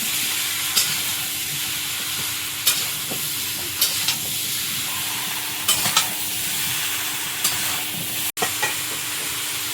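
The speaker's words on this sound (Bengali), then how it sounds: "এর মধ্যে এবার একটু লবণ তার মধ্যে হলুদ গুঁড়ো গুঁড়োটাকে ভালো করে কষিয়ে নেব" Pumpkin sizzles steadily in a pan as it is sautéed with salt and turmeric powder, a constant frying hiss broken by regular light clicks of the stirring spoon.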